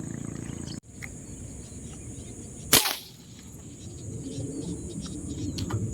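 A single sharp gunshot, fired at tilapia in a pool, cracks out loud and close, followed by a rumbling outdoor ambience with faint wildlife sounds.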